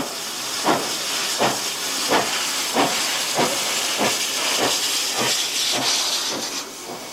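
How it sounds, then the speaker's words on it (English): A 36-class steam locomotive under way, a loud, continuous hiss of steam pulsed by rhythmic chuffs roughly every half second, close and steady with no voices. "The unusual sounds and rhythms of the steam locomotive were as enthralling as the passing"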